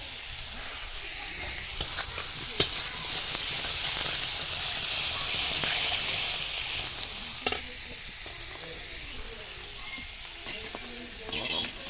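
Capsicum and onion frying in oil for pakora give a steady, close hiss of sizzling throughout, with a few sharp clicks and clatters of a utensil against the pan.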